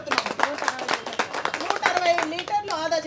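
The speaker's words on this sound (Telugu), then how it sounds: "వీరికి ఘనంగా చప్పట్లు కొట్టవలసిందిగా కోరుతున్నాను" At an award ceremony honouring bus depot staff, the audience breaks into applause: a dense run of close hand claps, with voices talking over it throughout.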